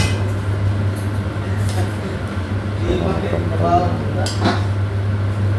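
Ladle clinks and scrapes against a cooking pot as kare kare with beef tripe is stirred, a low steady hum underneath and a few sharper metal taps, with talk over it.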